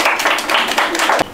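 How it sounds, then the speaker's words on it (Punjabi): A crowd claps for a girl, a dense, steady patter of many hands filling the clip, close and loud, before breaking off abruptly near the end. "ਤਾੜੀਆਂ ਲਾਵੇ ਕੁੜੀ ਲਈ ਯਾਰ"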